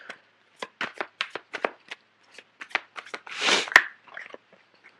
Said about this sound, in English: Okay, so I'm going to pull out a few cards for the Seven of Swords.